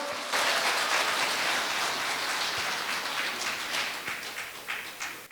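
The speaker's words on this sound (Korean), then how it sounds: "여러분들 감독님께 다시 한번 박수 좀 올려드릴까요?" Sustained audience applause at a Korean Buddhist Jogye Order 30th-anniversary grand dharma ceremony, honoring the camera director; a dense, steady wash of clapping throughout that thins slightly toward the end.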